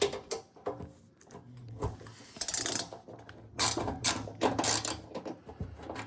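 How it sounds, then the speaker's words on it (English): A hand ratchet clicks in short bursts while backing screws out of a Whirlpool Duet washing machine, uneven ratcheting and metallic rattles close up, with quiet gaps between bursts. "So take your ratchet,"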